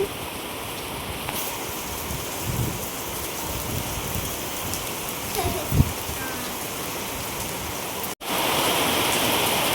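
Heavy rain pours down in a steady, dense hiss that fills the whole stretch, with a momentary dropout near the end before the downpour resumes just as loud.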